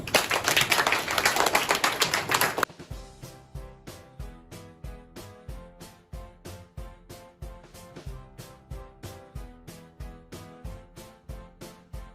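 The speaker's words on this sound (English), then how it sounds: "Let's clap for them." Primary students at a school open house clap for their classmates in a dense burst of applause lasting a couple of seconds. The clapping then stops abruptly and a steady, rhythmic music beat takes over.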